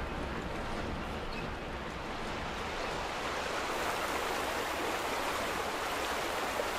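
Water rushes steadily in The Vanishing of Ethan Carter, a continuous broadband hiss of a stream or falling water that stays constant and close throughout.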